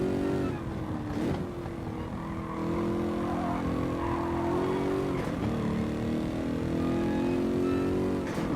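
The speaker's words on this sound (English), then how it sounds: "One of the first things I noticed about this car, aside from that gorgeous sound that it makes" Racing car engine in Gran Turismo Sport at Spa-Francorchamps, a steady loud drone held at high revs with brief shifts in pitch, heard alone without talk.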